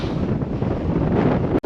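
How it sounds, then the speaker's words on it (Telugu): Strong gusts blast across a fogged hilltop trail at Shiva Gange Betta near Bangalore, a loud, dense, close roar buffeting the microphone steadily, briefly cutting out near the end. "ఫుల్ విండ్ బ్లాస్ట్ అయితే వస్తుంది."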